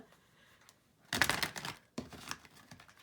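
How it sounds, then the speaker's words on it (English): A deck of tarot cards is shuffled close by, two bursts of crisp riffling and flapping card noise, the first longer, the second shorter, over a quiet room. "I'm going to shuffle it a couple more times."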